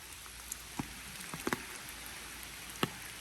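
Rain falling in a park, heard outdoors as scattered faint drips and patters, a few sharper drops standing out against a soft steady hiss.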